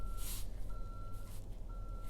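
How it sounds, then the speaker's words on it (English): Reversing beeps from a vehicle backing into a space, a thin steady tone sounding in regular pulses at moderate distance over low engine rumble and a few bursts of hiss. "I don't know if you can hear that beeping. Somebody's backing up into the space."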